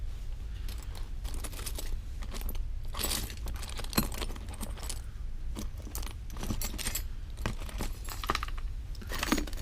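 Antique jewelry pieces being sorted by hand, metal and small items clinking and jangling continuously up close, with brighter taps and rattles as pieces are picked up and set down.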